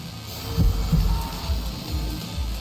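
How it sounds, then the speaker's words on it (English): A heavy, low heartbeat effect from the Fate/Extra CCC video game, thumping in a slow irregular pulse over a faint steady hum, loud and close with no voices. "With a thump, a remarkably loud heartbeat echoes in my ears."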